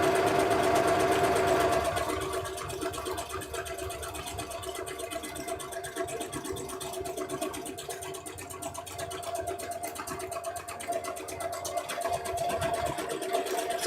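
A sewing machine stitching a one-step buttonhole, a fast rapid-fire needle chatter with a humming motor, louder at first, then settling into a quieter steady run.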